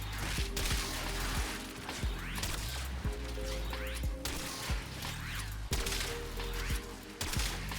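Lanka rail-gun shots and blast-proc explosions in the video game Warframe, loud dense bursts of booming impacts and crashes repeating every second or so over a droning game soundtrack.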